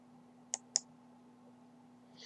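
A computer mouse clicks twice in quick succession, crisp and close, followed by another faint click a moment later over a quiet electrical hum.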